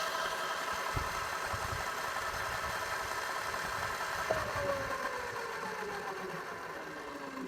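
A Tuttio Soleil 01 electric bike accelerating in Sport mode gives off a steady mechanical whir with a rising tonal whine, under constant wind rush at close range, with no talking.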